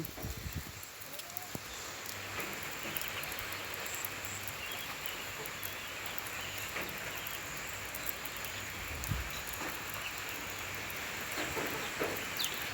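Rain falls steadily during a storm in Laos, a faint, continuous hiss with occasional soft drips and rustling and no break in the wash of sound.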